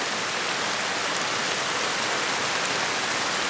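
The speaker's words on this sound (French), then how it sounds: "Est-ce que tu entends le grondement de l'orage et la pluie qui tombe?" Rain falls from a thunderstorm in a steady, even wash that fills the whole stretch. No distinct thunder rumble stands out, and nobody speaks.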